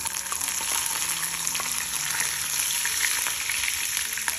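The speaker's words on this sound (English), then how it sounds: "Okay, now here cumin seeds have become brown. At this stage, add garlic first," Garlic dropped into hot oil with cumin seeds already browned, frying for a red lentil masoor dal curry: a dense, steady sizzle and crackle, close and continuous throughout, with no talking.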